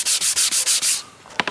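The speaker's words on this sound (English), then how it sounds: "and then I'm going to rub it with a wet cloth." Brisk back-and-forth rubbing strokes on the sanded wooden body of a Squier Classic Vibe 50s Telecaster, six even passes in about a second, close and loud, followed by a few light taps.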